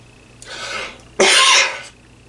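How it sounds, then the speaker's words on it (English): Two dry, raspy coughs close to the mic, the second louder and sharper, with no talking. "Dry ass cough."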